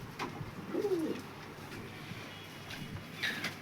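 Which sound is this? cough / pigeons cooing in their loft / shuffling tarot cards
pigeons cooing in their loft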